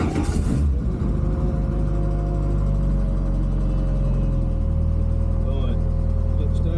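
A 370bhp Citroen Saxo VTS Turbo engine catches with a loud burst at start-up, then settles into a deep, steady idle rumble that rises slightly toward the end, heard up close.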